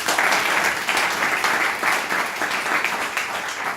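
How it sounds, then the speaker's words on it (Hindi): An audience at a seminar bursts into steady, dense applause, many hands clapping together at a consistent loudness throughout. "एक बार जोरदार तालियां हो जाए उनके लिए"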